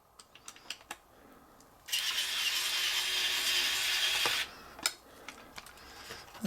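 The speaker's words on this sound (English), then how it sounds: "I have the ultimate tool in laziness, an electronic screwdriver." An electronic screwdriver backs screws out of an Atlas HO Dash 8-40C model locomotive, giving a single steady whir of about two and a half seconds, with light ticks and clicks before and after.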